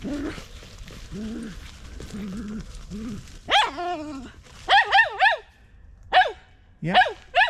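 A dog in autumn woodland barks at rocks: first low, grumbling whines, then sharp, loud barks in short bursts of two and three, close by, with breathy pauses between.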